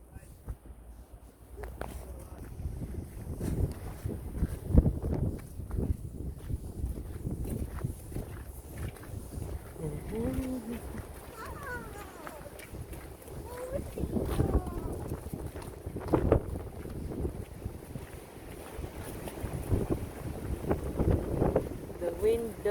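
Wind buffeting the microphone outdoors at Silverburn Park, Fife, Scotland: a continuous low rumble that swells and eases in gusts, with faint voices partway through.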